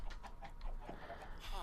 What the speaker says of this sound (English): Chicken clucks.